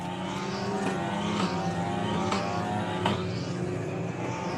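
Ligier JS F4 race cars circle NOLA Motorsports Park at reduced pace behind a Ginetta safety car. A steady, continuous engine drone holds throughout at moderate volume. Faint passing swells and brief higher-pitched whines sit on top, and no voices are heard.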